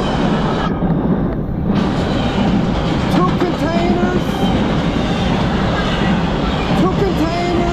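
Norfolk Southern freight train of mostly empty intermodal cars carrying two containers passes, a loud steady rumble with rail clatter and faint wheel squeal, close by.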